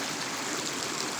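A natural river stream in Pinto, Southern Leyte, flows in a steady, close, even rush of water for a brief moment, with no voices.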